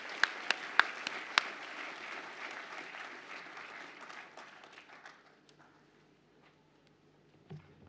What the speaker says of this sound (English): Let us give a round of applause to the graduates who have just been presented.